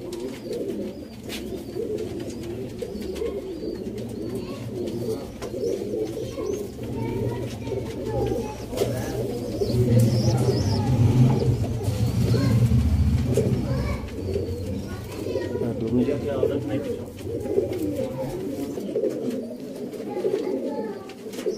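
Sialkoti pigeons coo in soft, repeated low rolling calls, several birds overlapping, with a swell of louder cooing midway and faint chirps and background noise throughout.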